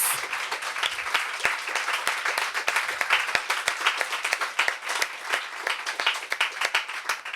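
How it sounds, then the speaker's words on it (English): Sustained audience applause for reading fellows and their mentors at a literary event, dense steady clapping from a crowd lasting several seconds with no talk over it. "let's give another round of applause for all of our fellows, all of their mentors"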